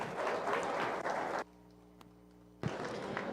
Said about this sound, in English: give him a nice round of applause for his Maintainer steer